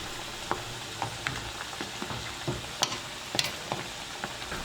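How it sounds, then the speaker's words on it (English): Dumplings fry in hot cooking oil, a continuous crackling sizzle with sharp pops and scraping taps as a cooking fork presses and stirs them. "Fry dumplings golden."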